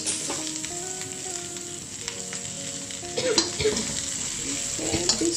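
Frozen cauliflower rice toasting in a pan, a continuous close sizzle with scraping stirs growing busier in the last couple of seconds.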